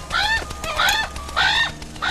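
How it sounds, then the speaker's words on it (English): Geese or other fowl honk and squawk in three loud, harsh bursts, close and clear with no talking. "Oscar, I wouldn't tease the birds."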